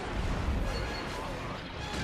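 Capital ships in Star Wars: Empire at War Remake, Clone Wars sub mod, firing on a space station: a dense, continuous barrage of booming blasts and rumbling impacts with no pause.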